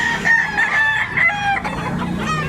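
A native rooster crows loudly nearby, with a drawn-out, wavering call, and other chickens can be heard clucking around it.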